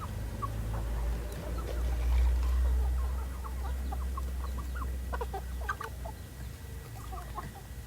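Free-range village chickens cluck in scattered short calls over a steady low outdoor rumble, with several birds sounding at moderate distance.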